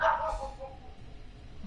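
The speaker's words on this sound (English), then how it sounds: "He's sitting here barking at me now." A pet dog barks once, fairly loud and close, at the start, then a low murmur of room sound and faint talk continues during a game session.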